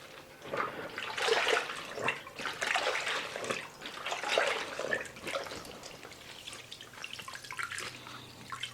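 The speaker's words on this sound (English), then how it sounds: "rinsing the mop out in this solution right here before going on to round 2" A mop being sloshed and rinsed in a bucket of hot pine cleaning solution, with irregular splashes, drips and swishing water up close that ease to quieter trickles.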